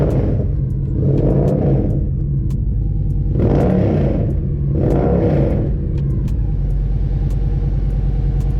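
Victory Vision touring motorcycle engine idling with a deep, growly rumble, revved three times in swelling blips before settling back to a steady idle, loud and close with no talk over it.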